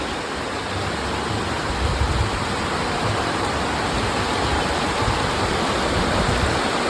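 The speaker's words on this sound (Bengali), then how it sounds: "এই দেখো, হাওয়ার কথা বলতে বলতে বৃষ্টিও শুরু হয়ে গেছে।" Rain begins to fall, a dense, steady hiss of drops that stays loud and even throughout with no voices over it.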